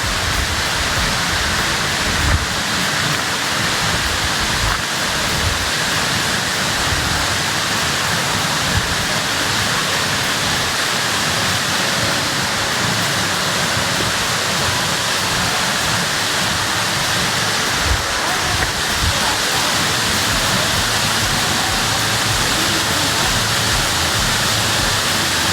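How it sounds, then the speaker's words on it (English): A big waterfall at Cloudland Canyon roars as a steady, close, broadband rush of falling water that holds even and unbroken throughout, with no voices over it. "Now that's a waterfall."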